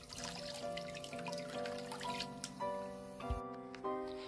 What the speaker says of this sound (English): I ran them under a tap to rinse off some of the loose parts.